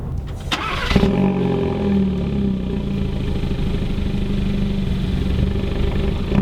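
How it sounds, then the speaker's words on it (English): A Hyundai Elantra Sport starts up with a sharp crank and catch, then settles into a deep, throaty exhaust idle that holds steady and fairly loud for several seconds. "When you fire up the Elantra Sport, you're greeted with this deep, raunchy exhaust note."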